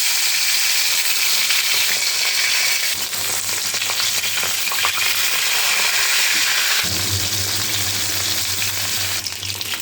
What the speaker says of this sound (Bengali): কড়াইতে দিয়ে দিচ্ছি সর্ষের তেল। মাছটা ভেজে নেব।